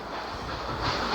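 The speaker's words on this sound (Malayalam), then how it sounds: "ഇത് ട്രെയിൻ ഓടറാ." A train in the Roblox horror game Choo-Choo Charles runs with a dense, continuous rushing rumble and a faint clatter that swells slightly toward the end.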